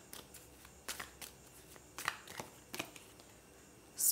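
Osho tarot cards are shuffled and handled up close, with soft quiet flicks and riffles coming in irregular bursts, then a sharper rustle at the end.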